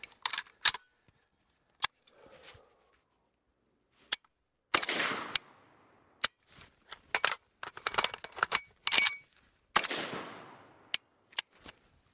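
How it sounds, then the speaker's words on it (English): AK rifle magazine change done as a reverse reload, a series of sharp metallic clacks and snaps at irregular intervals, with some rattling shuffles between, close and crisp against near silence. "now let's try the reverse reload"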